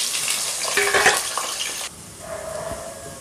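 Chopped onions, two medium ones, go into hot oil already holding green cardamom, cinnamon sticks, cloves and bay leaf for Hyderabadi murg musallam. A loud, broad sizzle opens, then drops suddenly to a softer, steady frying hiss.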